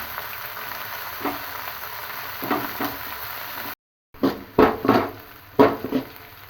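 Garlic, spring onion, a little coriander and ginger-garlic paste fry on a high flame for gobi manchurian, a steady close sizzle broken by a brief silence, then louder scraping stir strokes in uneven bursts.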